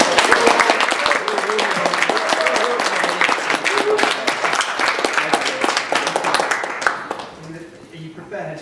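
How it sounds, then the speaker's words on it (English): Audience at a BettaKultcha presentation evening in Bradford applauding a first-time presenter, dense sustained clapping that fills the room before fading near the end, with some voices mixed in. "So let's have a huge round of applause."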